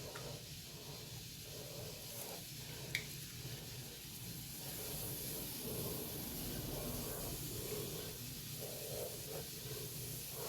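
Baking soda fizzing in dreadlocks as apple cider vinegar is poured on, a steady close hiss with soft crackling bubbles and a brief tap partway through, no talking.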